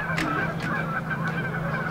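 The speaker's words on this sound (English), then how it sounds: "Geese, Emily, geese." Several geese honk in a short run of calls at moderate distance over steady background noise, with no talk.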